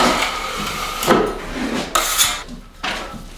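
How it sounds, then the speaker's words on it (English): A 14-inch bevel trowel drawn along a drywall seam to smooth joint compound, close scraping strokes in several separate passes with short pauses between them. "I take my 14-inch bevel trowel and I just run it along the seam, along the center of the seam, to smooth out the joint compound"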